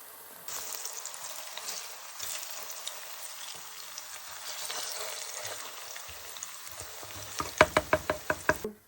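Oil sizzles steadily as plantains fry in a pan, a continuous crackling hiss, ending with a few sharp knocks of a utensil against the pan.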